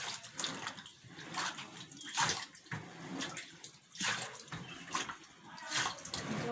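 Water gushes and splashes in uneven surges as it is pumped out of a manhole tank, a close, fairly quiet watery rush.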